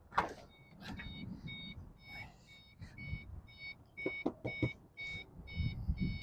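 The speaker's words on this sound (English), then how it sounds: "the left your key in the car reminder beeping, buzzing, drive you out of your freaking mind is working" A car's key-left-in-ignition reminder chimes in a steady repeating series of short, high, even beeps throughout, fairly close, over road noise and faint rustling at a dealer auction.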